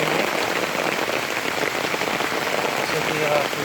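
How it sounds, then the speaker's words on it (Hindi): Heavy rain pouring steadily at the waterfalls near Nainital, a dense continuous hiss of drops striking surfaces, loud and close throughout with no pauses. "बारिश काफ़ी हो रही है"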